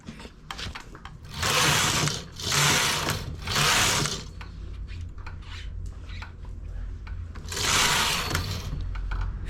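A manual knitting machine works a raised stitch, its carriage sliding in several loud rasping sweeps back and forth, separated by quieter pauses with light clicks.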